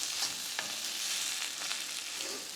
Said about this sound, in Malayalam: ഉള്ളി പേസ്റ്റും ചേർത്ത് നമുക്ക് നന്നായിട്ടൊന്ന് ഇളക്കി കൊടുക്കാം